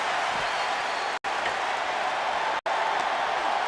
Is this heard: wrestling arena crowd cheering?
yes